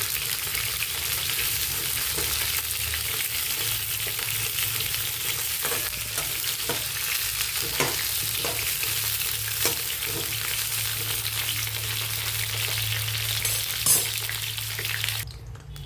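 Stuffed brinjals frying in hot oil in a pan, a continuous close sizzle and crackle with occasional stirring knocks, with no voices over it.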